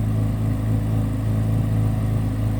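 Steady, rumbling engine note from a 2023 Chevrolet Corvette Z06 3LZ, heard up close and loud with no talking, holding an even throaty idle-to-rev drone throughout the short stretch.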